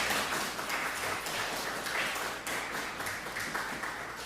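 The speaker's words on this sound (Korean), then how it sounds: "우리 옆에 있는 분들 박수로 환영하겠습니다." A Korean church congregation applauds to welcome people during a Sunday worship service in Darmstadt. The clapping is a dense, steady wash from many hands that fills the room without a break, with no speech on top.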